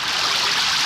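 Water poured out in a single steady stream during a domestic scene in a dubbed Tamil action film, a brief, close, even splashing rush with no voices over it.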